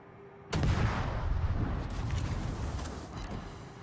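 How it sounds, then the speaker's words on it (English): A torpedo strikes a ship in World of Warships: a sudden loud explosive blast erupts, then rolls into a long, heavy rumble that slowly fades, with no voices. "Hey, got another torpedo hit."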